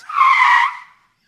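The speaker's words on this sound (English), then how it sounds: "I've got extra work to put in a screeching brake noise like this." A screeching brake sound effect plays alone: a single loud tire-squeal screech lasting just under a second, then fading quickly to silence.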